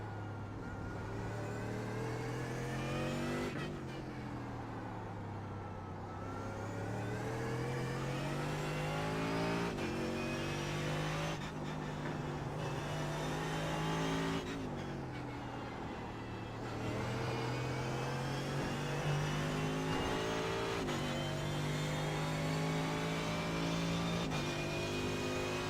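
Mercedes-AMG GT3 race car on track at Okayama circuit, its engine droning loudly and steadily close up, rising through the gears with sharp cuts at each shift and brief lifts off the throttle, with no voices.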